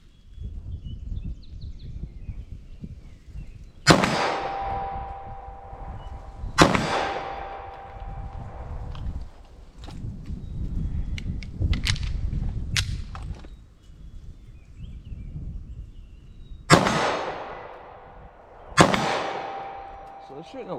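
Several 9mm+P subcompact pistol shots loaded with Speer Gold Dot rounds, fired at an outdoor range toward a target 25 yards away; about six sharp, loud cracks come at irregular intervals, each trailing off into a brief echo.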